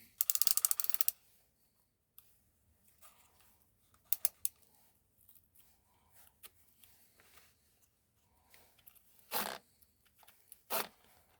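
Small ratcheting clicks and mechanical turns come from the yellow chain tensioner knob being turned on a cordless mini chainsaw, in short scattered bursts separated by quiet pauses, close and alone.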